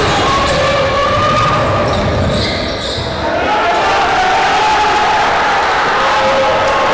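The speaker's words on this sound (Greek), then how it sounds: "Πολλά τα μπράβο και τα χειροκροτήματα από τους φίλους του Ιωνικού" A home crowd cheers and applauds at a Greek basketball game, a loud sustained roar of voices and clapping filling the arena, with a commentator talking over it.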